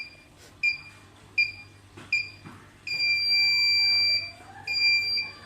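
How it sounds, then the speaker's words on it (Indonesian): Piezo buzzer on an Arduino Uno R3 parking sensor, sounding a few short separate beeps and then longer sustained high tones, loud and close, with no talk. "Pada saat buzzer berbunyi seperti ini, menandakan jaraknya"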